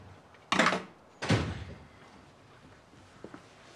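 A broken door is opened with two loud, heavy clunks in quick succession, followed by a quieter rattle and a small knock near the end. No one speaks.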